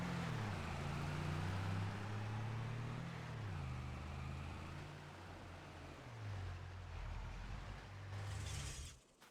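A tractor engine in Farming Simulator 25 runs with a low, rough, wavering drone that drops in pitch as it winds down and cuts out near the end, over steady background noise, with no talking.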